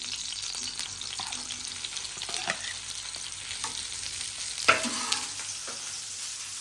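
Okra dropped into hot ghee on a griddle sizzles with a steady close hiss, with a few sharp stirring clatters partway through and no voices.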